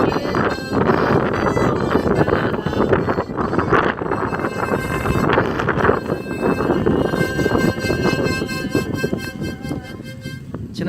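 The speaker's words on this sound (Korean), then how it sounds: "저렇게 바람이 불어요" Wind blows through a storm as a loud, steady roar of broadband gusting that holds without a break from start to finish, with no voices.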